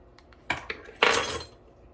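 A metal spoon clinks against a bowl while adding vanilla extract to cookie batter, a few quick taps followed by one louder scraping clatter, close and alone.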